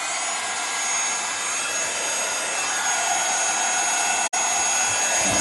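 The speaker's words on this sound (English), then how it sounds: "So I'm going to put my heat tool on and let that heat up" A heat tool runs as a steady, loud, close blowing roar like a hair dryer, melting embossing powder, with one very brief cutout near the end before the whir resumes.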